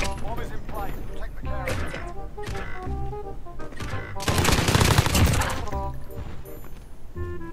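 Gunfire from the Modern Warfare video game comes as scattered shots and then a dense rapid burst, mixed in with game sounds and a player talking over it.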